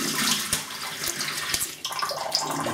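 Tap water splashes steadily as a Wilkinson Sword TTO double-edge safety razor is rinsed, a close, continuous hissing flow broken by a few brief sharper splashes.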